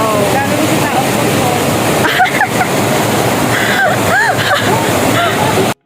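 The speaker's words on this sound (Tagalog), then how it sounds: "Ayan na po yung falls." A waterfall roars in a constant, loud wash of rushing water, close by and unbroken for several seconds, with people's voices faintly mixed in.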